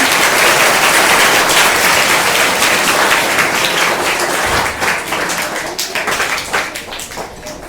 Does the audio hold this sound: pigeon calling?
no